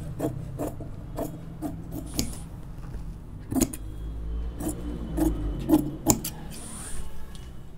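Scissors snip through salwar cloth on a tailoring table, with a series of short crisp cuts and light rustling fabric in between, close and fairly quiet.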